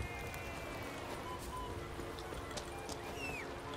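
Roach, the horse in the video game Witcher 3, moves with steady clip-clop hoofbeats under continuous game music and ambience throughout.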